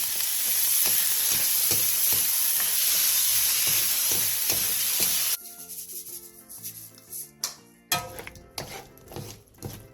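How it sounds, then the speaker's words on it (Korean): Sausage and vegetables stir-frying in a pan with sauce and sesame seeds, a loud steady sizzle with rhythmic stirring scrapes that stops midway, followed by scattered clinks and utensil knocks. "마지막으로 양념장과 통깨를 넣고 1, 2분 정도 더 볶아 마무리해주세요."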